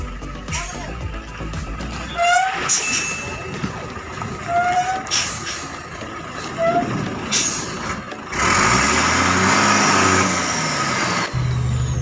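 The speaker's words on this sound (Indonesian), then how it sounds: "Unit dump truck yang naik ke atas kapal sudah 14 unit" Heavy dump truck engines from a coal mine rumble close by with hissing air brakes and clanking as trucks drive onto a ship, then a loud, sustained roar builds as a truck powers forward.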